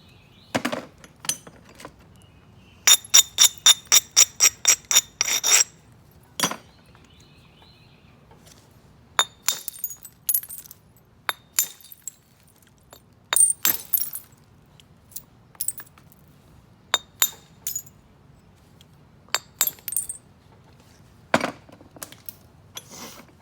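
Sharp stone knapping strikes by direct percussion on a large piece, with a quick run of about ten ringing clinks followed by scattered single cracks and clicks over a quiet background.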